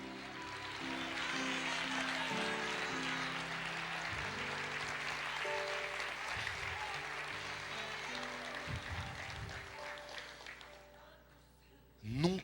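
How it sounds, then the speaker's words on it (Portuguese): A church congregation claps steadily for the Lord, sustained applause beneath soft instrumental music, gradually thinning out toward the end, followed by a brief louder sound. "Aplauda o Senhor"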